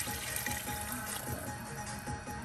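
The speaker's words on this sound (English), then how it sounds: "you want to pour the water to cover all the ingredients" Water poured into a large cooking pot over lemongrass pork rib stew ingredients, a steady close splashing and gushing stream that runs continuously without pause.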